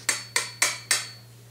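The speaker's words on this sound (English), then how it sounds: "I'm giving it just a friendly tap with a ball peen hammer, lightly." A ball peen hammer gives four light, sharp taps while replacing the safety on a Remington 870 shotgun, each strike crisp and close with a short ringing decay, spaced about a quarter second apart over a low steady hum.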